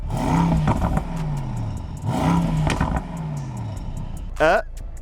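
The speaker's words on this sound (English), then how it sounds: "The S63 decided to keep the V8 so it gets that V8 sound." A Mercedes S63 AMG V8 engine revs hard twice, deep and loud, each rise swelling then falling away, followed by a brief squealing tire-like sweep near the end.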